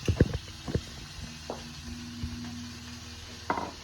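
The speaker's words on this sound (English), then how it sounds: "Steak strips go right on the peanut oil." Steak strips sizzle in peanut oil in a pan, a soft steady frying hiss with a few clinks and knocks of utensils, close and moderate in level.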